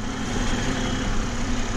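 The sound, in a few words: 2020 BMW M340i xDrive engine running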